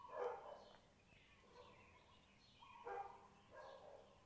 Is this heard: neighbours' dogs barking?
yes